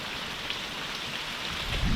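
Steady rain falls during a storm, a dense, even hiss of drops on surfaces, moderately loud and continuous, with no voices.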